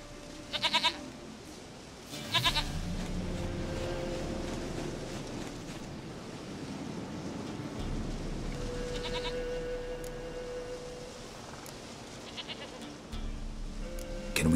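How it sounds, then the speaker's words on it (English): Goat bleats in short bursts near the start and again later, over a steady background hum with intermittent low tones; no voices present. "Goat of mine, dearest, sweetest goat."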